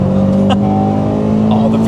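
A Honda Integra Type R DC5 engine revs up through its VTEC crossover, a steady droning engine note heard from inside the car with a voice talking over it.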